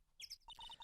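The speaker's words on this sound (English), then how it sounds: "Well, there's some birds chirping," Birds chirp in the video game Phoenix Wright: Ace Attorney, a quick burst of high tweets followed by a rapid string of short repeated beeping chirps, brief and quiet.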